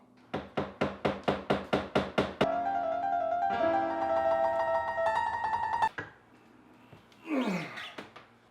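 Nailed-down flooring in an RV being pried up: a run of about eight rhythmic hammer-like knocks, then a sustained creaking groan of the board lifting, a sharp snap and a final scrape.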